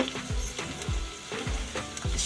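Carrot and beans tossed into a hot pan of oil for upma, a loud continuous sizzle with a few quick stirring scrapes in a steady rhythm, close up and with no voices.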